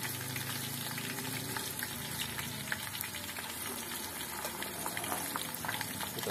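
Garlic and shallots fry steadily in a pan for a Lampung-style dish, giving a continuous bubbling sizzle that stays even and close throughout with no talking.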